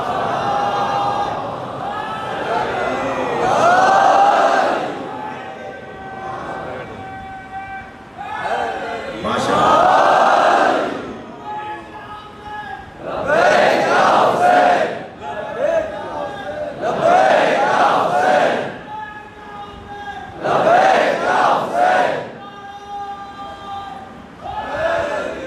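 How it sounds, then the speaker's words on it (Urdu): A majlis crowd chants salawat and religious slogans in loud, rhythmic collective bursts, each swelling for a few seconds and then easing back between rounds over a steady hall murmur. "بھائی باہر سے بھی کوئی صلوات اور نعرے کی آواز آنی چاہیے نا۔"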